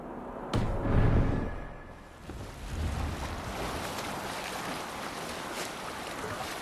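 A sailing ship heads out onto open sea waves in Assassin's Creed Valhalla, with a brief loud whoosh at the start followed by steady rushing water and wind, close and fairly loud.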